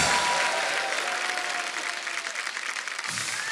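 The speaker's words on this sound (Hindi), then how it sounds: "सबसे स्वीटेस्ट सुपरस्टार के लिए जोरदार ताली हो जाए।" Loud applause from an audience cheering a superstar, dense steady clapping filling the whole span at close range with a faint crowd murmur underneath.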